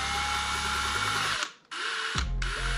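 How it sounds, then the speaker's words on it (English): A small power drill bit whines at high speed with a steady buzzing tone, cuts out briefly in the middle, then spins up again, close and loud, with no talking. "we're gonna take that small drill bit and we're gonna drill."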